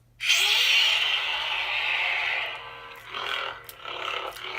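A loud, deep roaring growl from a custom lightsaber's Rancor sound font starts abruptly and rumbles steadily for a few seconds, then breaks into rougher, pulsing bursts.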